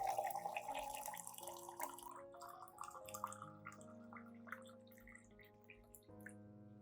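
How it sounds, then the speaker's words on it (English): Hot water splashes and gurgles as it is poured into a glass holding sliced potato peels, a close, bubbling stream with rising pitch that quiets into soft drips. "Next, add 500 milliliters of hot water."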